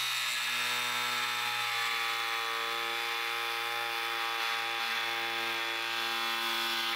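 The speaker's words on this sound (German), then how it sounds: "Wir sägen jetzt einfach mal hier 8 cm hoch" A Bosch GST 18V-155 SC cordless jigsaw makes a 6 cm high cut, a loud, steady whining buzz with a strong motor hum that runs unbroken and close for the whole stretch.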